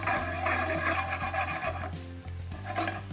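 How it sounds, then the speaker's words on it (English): Cherry tomatoes sizzle in a pan with butter, with close scraping and stirring sounds over a steady low hum and no talking. "into the pan they go, just for a couple of minutes"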